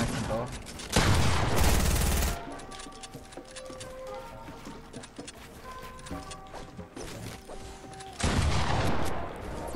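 Pump shotgun blasts in a German-language shooter video game, with two loud broadband bursts near the start and end and busier in-game gunfire and effects in between.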